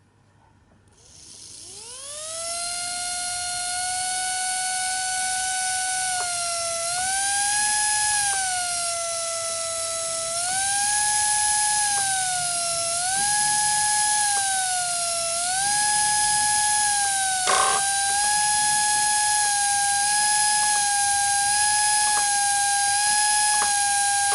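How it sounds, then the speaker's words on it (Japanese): A small brushless electric motor driven by an ESC on a test bench spins up with a rising whine, then holds a steady high pitch that steps up and down repeatedly as the throttle changes. "モーターの回転音の変化を聞いてください。"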